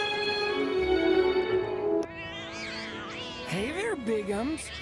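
Several cats meow in the Final Fantasy 7 Remake Intergrade video game, drawn-out rising and falling mews overlapping one another, loud and close over a low game soundscape.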